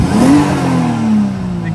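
A 1JZ engine swapped into a Mazda FC RX7 drift car revs hard at full throttle with a loud rising tone, then falls away and sags as it cuts out, all heard up close.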